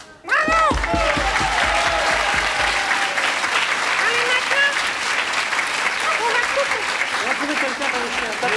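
Studio audience applause for a boy on a Belgian TV variety show, steady dense clapping lasting several seconds, with voices talking over the start and end.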